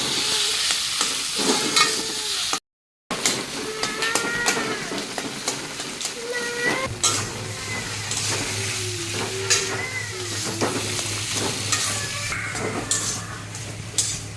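Small chandra fish fry and get stirred in a pan for a mashed fish dish: a busy, close sizzle and crackle with frequent spoon scrapes, briefly cut out, then joined by a low steady hum.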